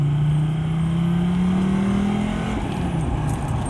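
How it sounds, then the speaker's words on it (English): A Mercedes OM605 diesel car fitted with an HX32 turbo spins its wheels on a waterlogged road, giving a loud, steady engine drone with a slowly rising note and turbo hiss, close and continuous. "Get a bit of boosting, but probably mostly wheel spinning."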